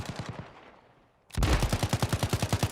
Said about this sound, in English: Nameless pops among there, using that SMG.